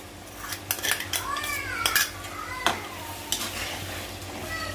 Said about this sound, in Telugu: మంచిగా పచ్చి వాసన పోయేంత వరకు మనం వేయించుకోవాలి.